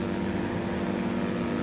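Diamond DA-62 twin engines in X-Plane 11 throttling up, a steady, dense droning hum with a strong mid tone, continuous and fairly loud throughout the short stretch.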